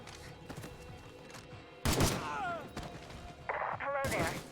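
Gunfire in a State of Decay 2 video game shootout, with a few sharp shots and bursts scattered over several seconds, heard over game sounds and brief voice-like tones.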